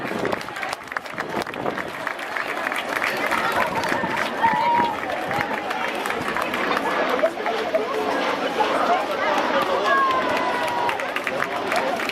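A crowd at a sports club inauguration claps in a steady, dense patter, with chatter and voices mixed through the applause.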